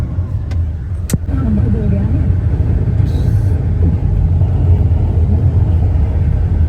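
An army vehicle drives ahead on a concrete mountain road near Dharchula, heard as a continuous close engine rumble from inside a moving car, with people talking over it.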